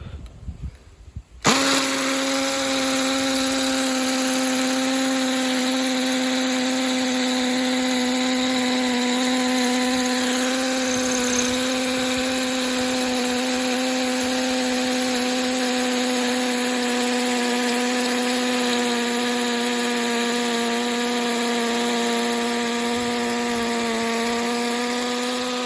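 A power drill with a Milwaukee bit boring into granite: after a few quiet knocks it starts and keeps up a loud, steady high-pitched whine close by for over twenty seconds with no break.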